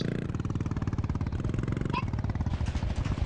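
A motorcycle engine in an Indian GTA video game, with a fast, loud, even putting thump that runs throughout, then a brief higher whine near the end, and a voice speaking over it.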